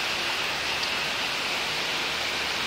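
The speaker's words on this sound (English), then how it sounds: "It always fills up with water during a heavy rain. Heavy downpour." Steady, dense hiss of heavy rain pouring down, continuous and even throughout, with no voices.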